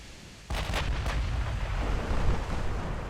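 Secondary guns on a warship open fire in the naval video game Ultimate Admiral Dreadnoughts, a sudden boom followed by a few rapid cracking reports, then a sustained heavy rumble that lingers loudly to the end.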